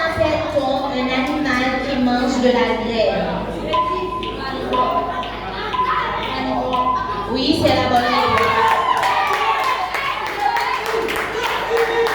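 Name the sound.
audience applause for quiz contestants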